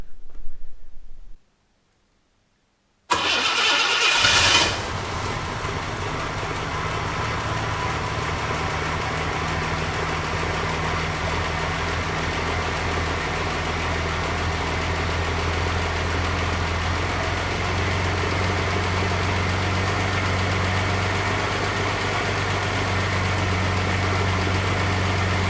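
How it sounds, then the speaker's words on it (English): A 1976 Ford Capri Ghia engine cranks and catches after a brief silence, then settles into a steady, rumbling idle that continues unbroken. "hopefully be able to get the engine running"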